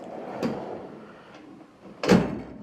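A drawer on a Snap-on KRL 55-inch toolbox slides open with a soft rolling rumble ending in a sharper metallic clunk, close by and without speech.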